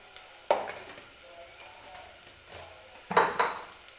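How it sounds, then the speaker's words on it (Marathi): Red chili powder masala sautéing in a pan, heard as two short bursts of stirring and sizzling with a quiet low crackle between them. "आणि व्यवस्थित हा मसाला परतून घ्यायचा आहे."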